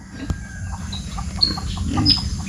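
A chicken clucks softly in short, scattered calls over a steady background hum, fairly close but not loud.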